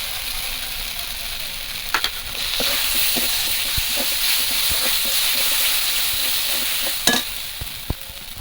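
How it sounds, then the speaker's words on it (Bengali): Spice paste with ginger and salt being sautéed in a pan, giving a steady sizzling hiss with scattered scraping clicks of stirring throughout. "আদার একটু কাঁচা গন্ধ যাওয়া পর্যন্ত এটা একটু কষিয়ে নেব"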